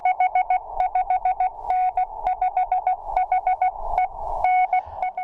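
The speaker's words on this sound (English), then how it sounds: "Continuous wave propagation is Morse code." Ham radio Morse code continuous wave tones, a clear steady pitched beep keyed in quick dots and dashes, loud and close, repeating in short groups without any talk.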